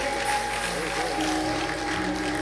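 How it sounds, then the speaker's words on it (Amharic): Applause rings out with high ululating cries at a worship gathering praising the Lord, a steady dense clatter of clapping blended with voices throughout. "እልልታ ጭብጨባ ለጌታ ክብር።"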